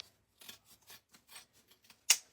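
Scissors snipping through t-shirt fabric while cutting pieces for a scarecrow hat wreath, several short close cuts spaced irregularly, ending in one louder sharp snip.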